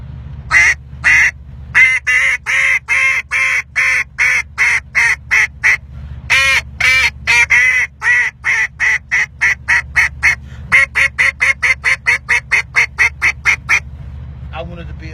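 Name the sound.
double reed duck call being blown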